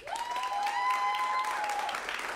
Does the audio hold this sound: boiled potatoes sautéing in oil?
no